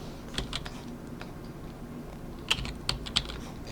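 Quiet tapping of computer keyboard keys with control held down, a few scattered sharp clicks that grow slightly louder and closer together toward the end, no talk.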